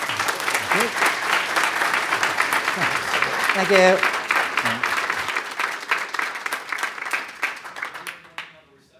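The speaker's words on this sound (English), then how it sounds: "if you wouldn't mind giving a round of applause for Seth." An audience at a comics forum keynote claps loudly and steadily, the applause thinning out and fading toward the end while a voice briefly speaks.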